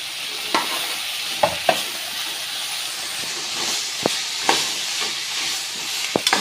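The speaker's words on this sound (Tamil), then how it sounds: "நல்லா வதக்கணும்." Chayote chutney ingredients and fresh coriander leaves sautéing in a pan, a steady close sizzle and hiss with a few sharp clinks and scrapes of stirring scattered through.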